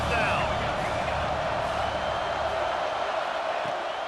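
Steady, dense roar of a stadium crowd at a college football video game on a tense fourth down, a continuous wash of massed voices filling the clip from start to finish without a break.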